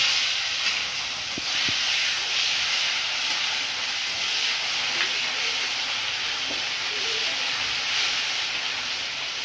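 Bay leaves and a tomato sizzling in hot oil, a steady loud hiss that stays even throughout with a few faint clicks.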